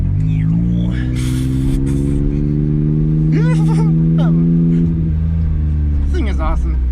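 A 1993 Autozam AZ-1 small sports car engine revs, its pitch rising and holding steadily up close, while people chat over it.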